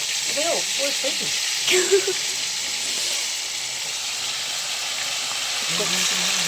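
Fish sizzles and hisses steadily in hot oil in a kadai, with a few brief voices close by at the start and end.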